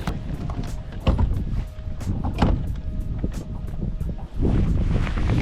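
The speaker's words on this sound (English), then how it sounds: "it's super windy" Gusty wind by a river in cold weather buffets the microphone in uneven rumbling bursts, with a couple of faint knocks, loud and close throughout.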